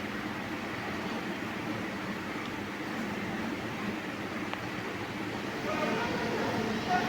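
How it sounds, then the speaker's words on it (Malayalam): Kanyakumari–Bangalore express train pulling into Kollam station, a steady broad rumble of wheels and carriages that swells slightly toward the end, with a faint horn-like tone briefly audible. "കന്യാകുമാരി ബാംഗ്ലൂർ വണ്ടിയാട്ടോ നമ്മുടെ കൊല്ലത്തേക്ക് വന്നിരിക്കുകയാണ്"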